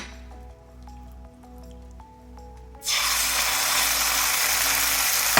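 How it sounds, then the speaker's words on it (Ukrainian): After a few quiet seconds of faint dripping and clinks, a loud steady sizzle erupts and holds as chicken hits a hot oiled pan. "Обсмажуємо з двох сторін та доводимо до готовності з закритою кришкою"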